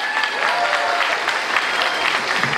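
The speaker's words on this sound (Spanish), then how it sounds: "Fuerte el aplauso para el cónsul comunitario" An audience claps for the community affairs consul at a 2018 cultural gathering in Cheranástico, Michoacán, a full, dense burst of applause at moderate loudness with scattered louder claps.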